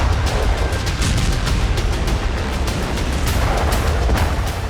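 Russian suicide drone strikes hit a Ukrainian grain warehouse; repeated sharp cracks and booms burst over a continuous roaring rumble, loud and close, with no voices.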